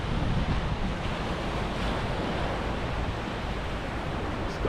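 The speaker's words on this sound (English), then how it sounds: "Scottish beach, yo." Waves and wind on a Scottish beach in Aberdeen roar as a loud, continuous broadband wash, with heavy wind buffeting on the microphone and no voices.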